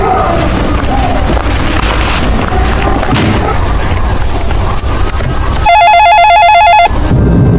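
A telephone rings once in a short electronic burst over loud, continuous background noise.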